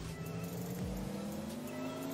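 A car accelerating in the video game Cyber Hunter, a faint, steady engine drone with a rising tone and a brief low swoop partway through.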